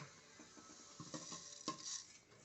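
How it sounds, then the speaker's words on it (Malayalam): Washed and dried rice, two measures, is roasted and stirred in a hot pan. A utensil scrapes and clatters in irregular strokes against the metal over a faint sizzle, close and moderately quiet. "അതിലേക്ക് അരി വറക്കുക"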